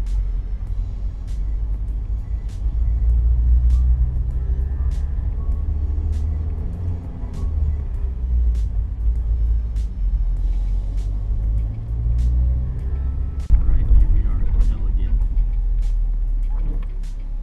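A manual-transmission car pulling out with its engine running, giving a steady low rumble inside the cabin, while a regular ticking indicator clicks along on top.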